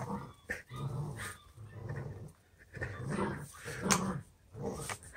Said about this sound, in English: You hear him growling.